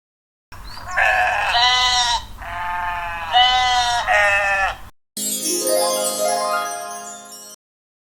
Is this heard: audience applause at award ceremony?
no